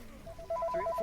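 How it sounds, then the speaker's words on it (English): A phone ringtone chirps in a short run of rapid, evenly spaced electronic beeps, fairly quiet and alone. "My phone's ringing."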